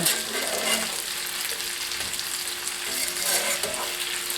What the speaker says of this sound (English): And I'm going to add the potatoes now. And I'm adding the potatoes now because I want to brown them a little bit.